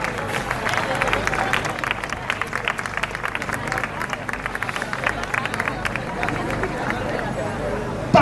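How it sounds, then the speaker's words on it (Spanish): A crowd at the awards ceremony of a Falles charity running race in Valencia claps steadily for the cadet-category runners, a dense continuous applause under a background hubbub of voices. "les damos fuerte aplauso a la categoría cadete"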